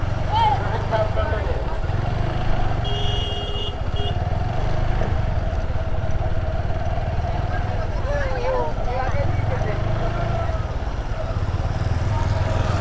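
A motorcycle rides slowly through the Tongi cattle market, its steady low engine drone running throughout while someone talks over it and crowd noise stays in the background.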